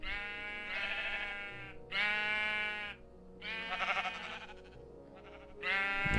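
Minecraft sheep bleat repeatedly in a video game, several loud, close, wavering baa calls in separate bursts with short pauses between them.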